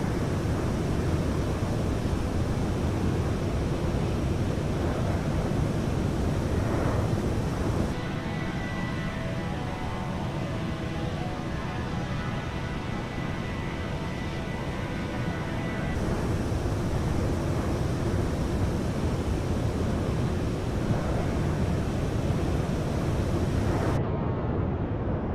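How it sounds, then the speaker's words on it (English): Engines of a United Boeing 737 in Microsoft Flight Simulator 2020, a steady loud broadband roar and rushing noise throughout, with a brief shift in tone midway and no talking. "Let's listen to some of the engine sounds"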